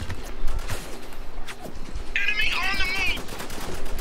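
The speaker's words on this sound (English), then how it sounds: "we've got a shit ton of guys shooting us at the moment" Heavy enemy gunfire in Spec Ops: The Line, continuous automatic bursts and rattling shots coming from several directions at once, loud and dense throughout, with a brief shrill whine cutting through midway.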